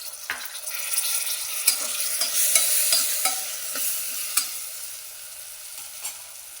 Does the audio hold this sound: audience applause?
no